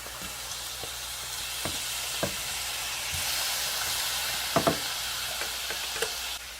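Shrimp fry with garlic in a hot pan, giving a constant hissing sizzle with a few sharp pops and taps as pieces land and are spread out, close and without speech.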